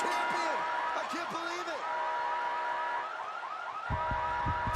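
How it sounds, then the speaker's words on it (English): A blaring siren sound effect rings through a wrestling arena as a new champion is crowned, its wailing sweeps repeating loudly before fading into crowd noise and commentary. "get ready to hear sirens"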